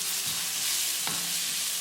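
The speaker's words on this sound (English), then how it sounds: "Cook paneer along with tadka for 2 minutes." Paneer frying with tadka in a pan sizzles steadily up close, with two distinct spatula scrapes, one early and a sharper one about halfway through.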